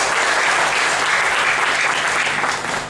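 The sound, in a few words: audience applause at seminar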